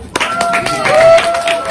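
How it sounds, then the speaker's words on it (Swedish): Audience clapping at a magic show during an Eid festival in Sweden, short bursts of applause rising and holding steady over about two seconds with some voices mixed in. "Ett stort applåd!"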